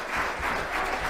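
An audience at a hearing breaks into dense, steady applause that fills the short moment, close and loud, with no speech over it.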